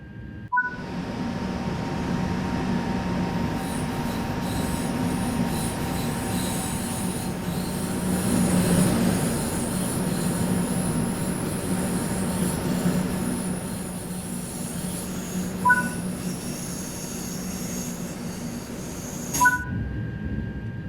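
A TGV high-speed train in motion on the LGV Méditerranée line in Train Sim World 3, heard as a steady rolling rumble with a sustained wheel squeal, and brief electronic tones near the start and end.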